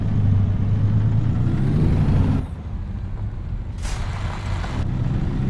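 An in-game truck in American Truck Simulator, hauling 55,000 lb, lets off its parking brake with a loud air hiss, then its engine rumbles steadily as it pulls away, heavy low drone dominating with a brief second air burst.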